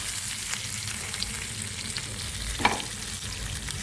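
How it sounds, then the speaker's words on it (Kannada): Mackerel fish frying crisp in a pan over medium heat, a dense, steady sizzle and crackle heard up close, with one brief scrape of a utensil partway through. "ಈ ರೀತಿಯಾಗಿ ಅದು ಫ್ರೈ ಆಗ್ತಾಯಿದೆ ಮೀಡಿಯಮ್ ಹೀಟ್ ಮೇಲೆ"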